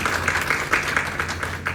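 An audience at a training program event claps for their guru, a steady brisk round of applause filling the short moment.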